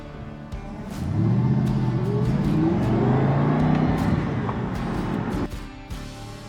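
A 2015 Aston Martin Vantage convertible with a 420 hp V8 pulls away and accelerates, its loud, steady engine note rising and holding for several seconds before easing off, with no one speaking over it.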